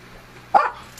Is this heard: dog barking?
yes